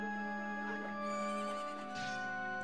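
A horse neighs in a video game, a drawn-out whinny with a wavering pitch rising and falling over a steady electronic game background, fairly loud and with no talk over it.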